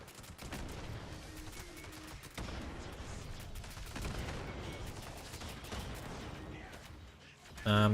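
Distant, muffled gunfire and explosions rumble through a video game zombie fight, a steady wash of rapid shots and blasts at low level, ending with a brief tonal game sound.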